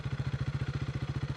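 A KTM RC 390 motorcycle fitted with an SC Project exhaust idles close by, its engine pulsing in an even, rapid throb, loud and steady throughout.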